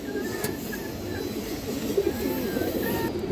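A female pigeon coos in soft, low, repeated rolling calls close by, accompanied by faint higher chirps and a steady background hum.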